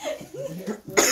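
A single short cough bursts out near the end after a brief vocal sound, close and fairly loud.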